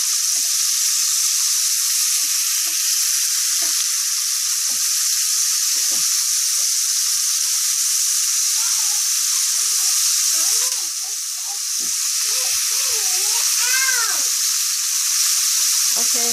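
Flipped steak sizzles steadily in a pan at a loud, close, continuous hiss that barely dips, while a few faint squeaky voice-like sounds pass underneath.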